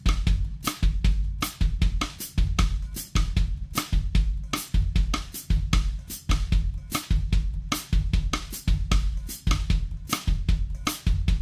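On a drum kit, a bossa nova rim click pattern plays over a repeating bass drum and hi-hat foot pattern, with sharp syncopated clicks layered over steady low thumps and chicks, close and loud, with no voices.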